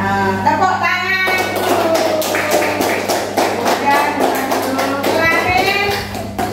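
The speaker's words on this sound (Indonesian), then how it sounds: "Iya, tepuk tangan." Children in a classroom clap together in a brisk, rhythmic round of applause that lasts several seconds, with a teacher's voice and children's voices heard over it.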